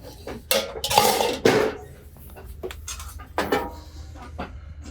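A big cabbage ware ceramic bowl is handled, knocking and clinking against other dishes in a few sharp clatters, then lighter taps and scrapes, close and with no talking.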